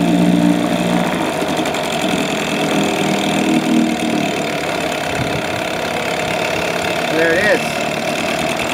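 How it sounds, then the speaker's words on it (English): A two-stroke outboard boat motor runs at a steady, close idle after starting, its even mechanical drone continuous throughout while a person speaks briefly over it. "So it starts and runs really well. The biggest advantage to the 2-stroke is the idle."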